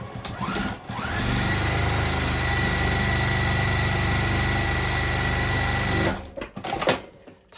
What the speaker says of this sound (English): we're going to press these open and top stitch